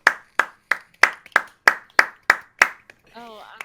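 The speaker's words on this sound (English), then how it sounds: "I had a late clap." Hand clapping: nine sharp, evenly spaced claps, close and loud, followed by a brief burst of talk at the end.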